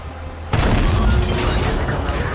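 A HEAT round from a Type 59 tank in World of Tanks strikes an enemy's tracks, a sudden loud close boom that cuts in abruptly and leaves a dense rumbling, crackling wash trailing off behind it.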